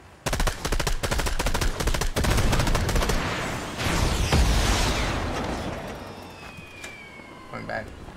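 Loud, rapid gunfire from a Fortnite match, with a dense run of closely spaced shots that gives way to a big booming blast, which fades into a long tail with a few scattered later hits.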